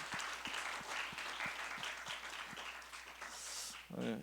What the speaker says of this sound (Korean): 우리 고3 랩런트들을 위해서 격려의 박수 한번 보낼까요?